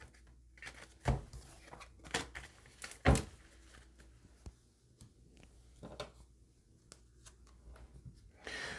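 Tarot cards shuffled by hand in a quiet room, a few sharp riffling bursts and soft papery slides spread across several seconds with no talking.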